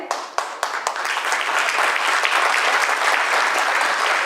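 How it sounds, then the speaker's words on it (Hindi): Theatre audience applauding a makeup artist after a stage show, starting with a few separate claps that swell into dense, sustained clapping from a large crowd. "शराफत भाई के लिए बहुत जोर से तालियां"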